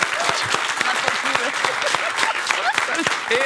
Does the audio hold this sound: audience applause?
yes